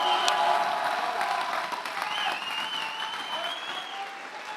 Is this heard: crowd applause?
yes